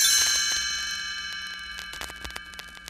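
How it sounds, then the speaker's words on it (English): A chime rings once with a bright, clear strike whose bell-like overtones linger and slowly fade. A few soft ticks sound behind it. "You will know it is time to turn the page when you hear the chimes ring like this."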